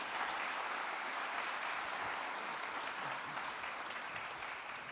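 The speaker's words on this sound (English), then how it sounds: "Please give them a big round of applause" Audience applause fills a conference hall at a drug-development collaboration event, a dense and even round of clapping that holds steady for several seconds, fairly distant and heard alone.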